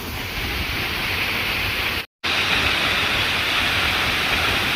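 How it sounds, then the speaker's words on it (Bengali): Thankoyain waterfall near Alikadam in the Bangladesh hills, a steady broadband roar of falling water, loud and continuous, with one short dropout partway through. "আমরা আমাদের কাঙ্ক্ষিত সেই থানকোয়েন ঝর্ণায় এসে পৌঁছালাম"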